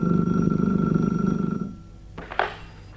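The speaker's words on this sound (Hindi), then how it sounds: "ऐसी घंटी टेलीफोन ही की होती है।" A telephone bell sounds as a radio play effect, ringing loud for about a second and a half and then cutting off, followed by a faint clunk or two like a handset being picked up.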